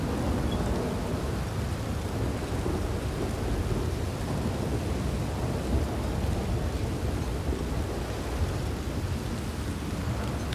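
A heavy thunderstorm in Red Dead Redemption 2: dense, continuous rain hiss with deep rumbling thunder underneath, steady and loud throughout, no voices.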